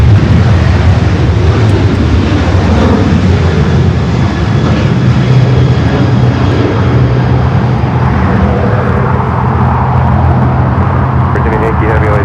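A LATAM airliner taxiing at LAX roars continuously with a loud, broad jet-engine rumble that stays steady throughout, while a voice talks at times over the noise.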